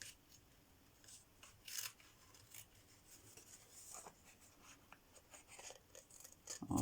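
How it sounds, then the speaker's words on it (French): Scissors snip through fabric while trimming the edges of a faux shaker fabric tag, giving a few faint, crisp cuts and rubbing sounds in a quiet room. "on prend des ciseaux et on découpe"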